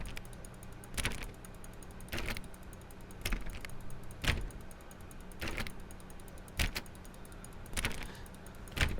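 Door in The Stanley Parable game clicked over and over, each click landing as a sharp rattling clack in an uneven series of about a dozen, spaced roughly half a second to a second apart over a low steady hum.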